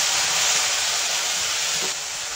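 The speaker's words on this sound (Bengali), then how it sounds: "তেলের মধ্যে তেজপাতা আর জিরে ফোড়ন দেবো" Bay leaf and cumin seeds sizzling in hot oil in a pan, a steady loud hissing crackle that runs continuously and eases slightly near the end, with no voices.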